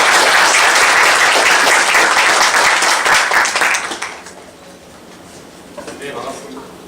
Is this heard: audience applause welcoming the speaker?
yes